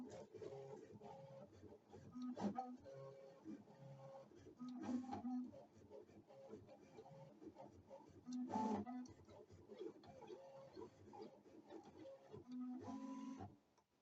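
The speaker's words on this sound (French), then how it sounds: "j'ai mis ici le vinyle et je vais lancer l'impression" A Loklik Impress machine prints on vinyl with quiet, whirring mechanical passes broken by sharp clicking and thumping bursts every few seconds.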